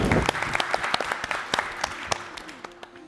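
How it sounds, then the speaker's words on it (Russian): Teams at a quiz league game clap for one another, a brief round of applause with distinct sharp individual claps standing out near the mic before it thins and fades. "Аплодисменты друг другу."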